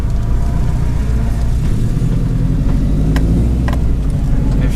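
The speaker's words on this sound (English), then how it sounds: "we're pulling out of the driveway" A car fitted with cheap eBay coilovers rolls out of a driveway, its engine a steady low rumble close by with road and suspension noise, no talking.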